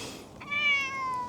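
A soft, friendly cat near a rural train line viewpoint in Japan gives a single clear meow, rising then falling, close by over quiet background.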